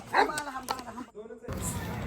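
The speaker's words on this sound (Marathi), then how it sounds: "परी डॉग भुकाले नको भुकू म्हणाव." At a rural village gathering, a dog gives a few short barks and yips close by, mixed in with people talking over them.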